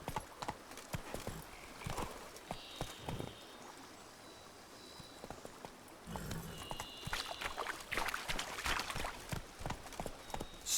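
Roach the horse gallops in The Witcher 3: Blood and Wine, hooves clip-clopping in quick, uneven bursts, close and fairly loud, with brief pauses and faint ambient background.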